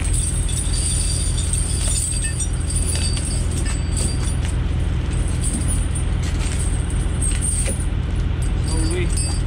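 Heavy tire chains for a semi trailer being handled and spread out, metallic jangling and clinking links against a steady background rumble, with occasional talk.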